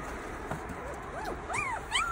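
Tiny orphaned puppies whimpering, several thin rising and falling whines in quick succession, faint and close in a quiet room.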